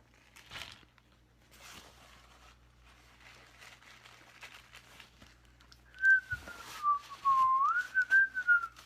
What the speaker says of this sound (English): Go ahead and just whistle nonchalantly.